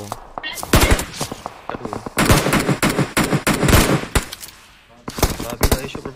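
Enemy gunfire in a shooter video game match arrives as loud, sharp bursts of rapid automatic shots in several volleys with brief gaps, while a player talks over the action.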